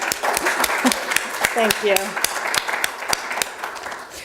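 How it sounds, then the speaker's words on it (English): A brief round of clapping from a group under a spoken thank-you, with sharp claps scattered across the few seconds. "She gets a round of applause."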